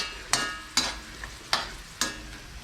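Filipino longanisa sausage cooking in a pan, five sharp, evenly spaced spatula clacks against the pan over a light background sizzle, close and clear with no voices.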